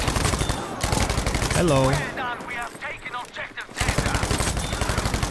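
Rapid automatic gunfire in the Battlefield 5 video game rattles loudly at the start and again at the end, with a player's voice talking over a short pause in between.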